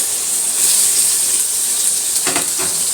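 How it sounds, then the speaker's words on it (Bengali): Tomatoes fry with garlic in a pan for a home-style loitta fish bhuna, producing a continuous bright hiss and sizzle with a couple of short crackling bursts near the end. "আমি টমেটোটা এবার একটু ভেজে নিচ্ছি"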